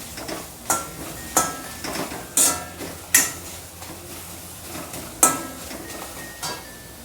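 Onions sautéing in a pan with masala for Malwani-style chhole, a spatula knocking and scraping the pan in irregular, fairly close strokes over a low steady sizzle, with no voices.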